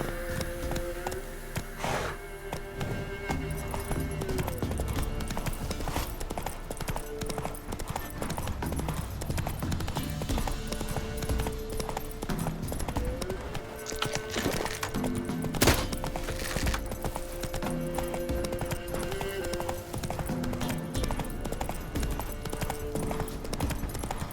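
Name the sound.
horse galloping hooves in video game The Witcher 3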